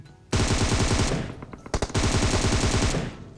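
Rapid automatic gunfire in PUBG Mobile, loud and close, firing in two long sustained bursts with a brief broken gap of scattered shots between them.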